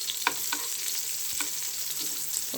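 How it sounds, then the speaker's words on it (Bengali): Pointed gourd seasoned with turmeric, salt and chili fries in a pan with a steady, close crackling sizzle and occasional soft clicks of stirring. "পটলটা ভাজছি।"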